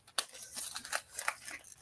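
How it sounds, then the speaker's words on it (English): Scissors snip open a paper craft packet in a quick series of short, crisp cuts and crinkles, close and fairly quiet, with no talking. "I do find, though, that I need scissors to get into these packets."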